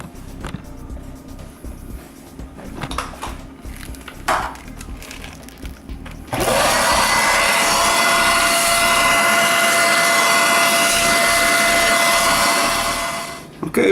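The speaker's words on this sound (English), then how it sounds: "vacuum out that grime that's on there" Vacuum cleaner sucking grime off refrigerator condenser coils during a fridge repair, starting with faint scraping and clatter, then a loud steady roar from about six seconds on that cuts off near the end.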